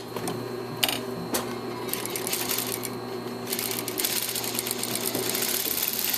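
Sewing machine stitching overlapping seam lines on fabric while making a welt pocket, a steady continuous mechanical whir running close and clear throughout with a few brief clicks, no talk.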